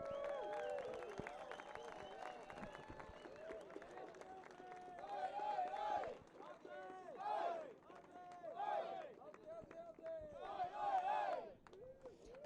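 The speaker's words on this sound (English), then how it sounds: "One more round of applause here." Outdoor crowd at an adaptive surfing world championship final day cheering and applauding Team Australia, with bursts of shouts and claps rising and falling over a steady hubbub, mixed with nearby talk.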